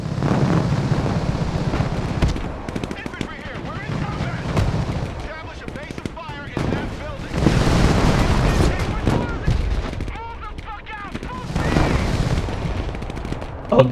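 Infantry combat gunfire in Broken Arrow crackles in bursts of rapid shots and distant booms, rising and falling in waves over the stretch, with a voice talking at times between volleys.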